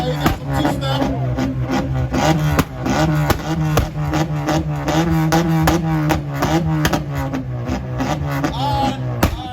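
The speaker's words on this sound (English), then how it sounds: "Okay, he got some two-step." A muscle car held on two-step launch control at a car meet, a loud steady stuttering drone near the limiter, punctuated throughout by rapid sharp exhaust pops and crackles.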